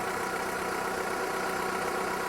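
A designed car-engine sound effect for the video game Chrono Rifter, built with flanging and filtering, runs as a steady, dense, moderately loud drone with an idling character throughout.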